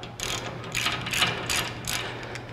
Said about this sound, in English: loosen the nut on the end of the shaft